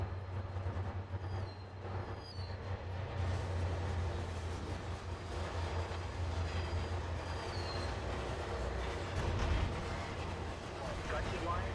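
Rio Grande train passing in the Trainz game on the Soldier Summit route, a steady rumbling roll of wheels and cars with faint squeals, continuous and moderately loud throughout.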